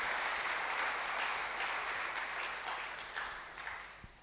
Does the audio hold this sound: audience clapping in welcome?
yes